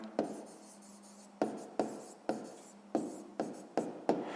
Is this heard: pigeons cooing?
no